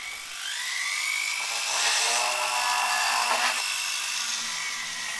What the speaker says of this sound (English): then drill those holes